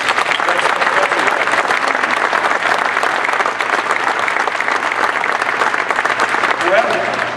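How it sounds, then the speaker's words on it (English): Loud, sustained applause from a large audience fills a sports and entertainment venue event for Nassau Coliseum, a dense even wash of clapping lasting several seconds with crowd murmur mixed in. "we need a real clap."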